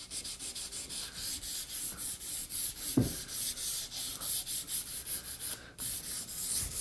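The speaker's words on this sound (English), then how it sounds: "run your sandpaper over the waxed surface here" Sandpaper rubbed back and forth over a waxed wooden axe handle, stripping the wax finish, giving a steady series of close, rhythmic scratchy strokes with one brief knock midway.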